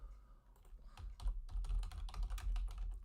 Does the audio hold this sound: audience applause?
no